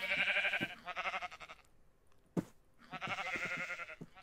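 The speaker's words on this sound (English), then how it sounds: "three sheep right here" Sheep in the Minecraft video game bleat in several short wavering calls, loud and close, with a brief pause and a sharp click between the bursts.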